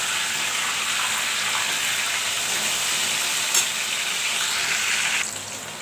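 Loitta fish pakoras sizzle in hot oil, a bright continuous frying hiss held close and steady, with a brief clink partway through and the sizzle easing slightly near the end.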